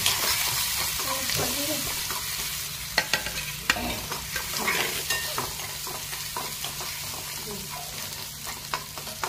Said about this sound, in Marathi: आता याच्यामध्ये मोहरी टाकत आहे, जिरा आणि लसूण, हळद हे सगळं टाकून